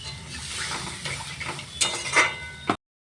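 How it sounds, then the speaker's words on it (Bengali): Water is poured into a pot of potato curry, making a short splashing rush followed by a few metallic clinks from the pot and utensil before stopping abruptly. "এবার একটু জল দিয়ে দেবো আলুটা সেদ্ধ হওয়ার জন্য"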